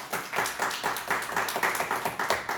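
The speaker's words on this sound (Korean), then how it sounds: "하나님께 영광의 박수를 올려드리겠습니다" Church congregation clapping in praise during a Korean sermon, loud rhythmic unison claps in a steady beat, closely spaced and continuous throughout.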